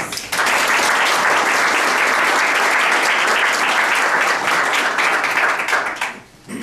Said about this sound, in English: I think that they all deserve another round of applause.